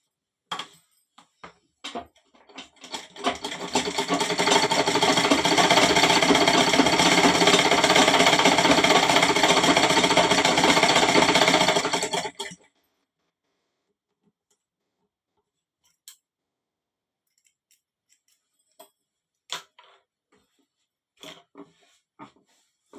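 A sewing machine stitches a handkerchief in one loud, steady run of rapid needle clatter lasting several seconds and then stopping. Scattered light clicks and handling taps come before and after.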